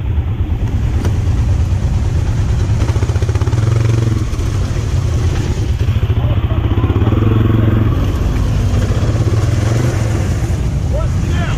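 Off-road UTV stuck in a creek, engine revving loudly with a rough, throbbing pulse that swells and eases, close by, with people talking faintly over it.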